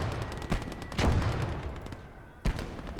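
Machine gun fire and scattered gunshots in the World War II video game Gates of Hell: Ostfront, Winter War setting, with a dense rattling burst and a sharp isolated shot amid battlefield noise.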